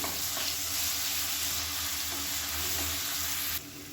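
Onion and garlic sauté in a pan for a one-pot South Indian lunch dish, giving a steady close sizzle with faint stirring scrapes that softens abruptly near the end.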